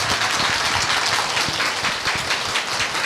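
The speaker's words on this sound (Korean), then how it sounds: "다시 한번 여러분 박수 부탁드리겠습니다" An audience at a Baroque chamber music concert applauds warmly, a dense wash of many hands clapping continuously throughout.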